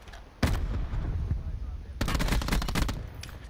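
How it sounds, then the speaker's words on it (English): Gunfire in the video game Blackout on the Alcatraz map: bursts of rapid automatic shots crackle out, with a short gap between two longer volleys, loud and close in a busy game mix. "There's people shooting"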